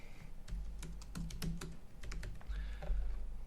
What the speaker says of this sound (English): Again, we'll go ahead and type in John Smith,